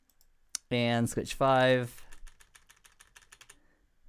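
A computer keyboard is typed on while setting up Cisco network switches. A short spoken phrase comes first, then a quick, uneven run of light key taps, fairly close.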